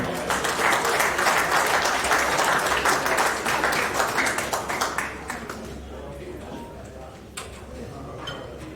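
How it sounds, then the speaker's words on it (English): Loud crowd applause at a boxing hall of fame ceremony, dense clapping for about five seconds that thins to scattered claps and fades, with some talk in the background. "Give him a big round of applause, Greg."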